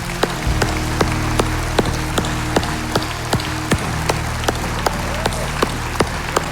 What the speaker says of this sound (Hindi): आइए मिलकर ताली बजाए,